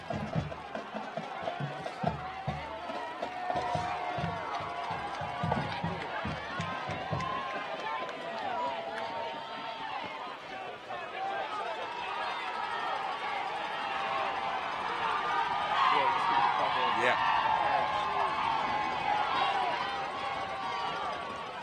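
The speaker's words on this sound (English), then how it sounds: "The crowd is loud and proud tonight." A high school football crowd at Smalls Athletic Field on senior night for the York High Bearcats roars in a steady, dense wash throughout, swelling louder toward the end, with a commentator talking over it.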